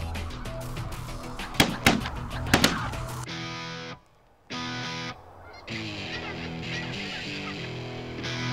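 Several geese honk repeatedly overhead at a duck hunt, loud, overlapping calls at first, then dense, sustained honking with a short gap midway, no speech.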